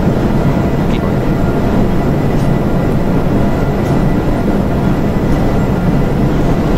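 Engines of a modded Boeing 747 airliner in the Eurofly 2 flight game, a constant dense rumble and hiss at steady loudness with no variation, heard alone.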